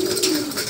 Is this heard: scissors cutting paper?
no